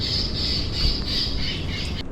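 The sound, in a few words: African bird calls played from store speakers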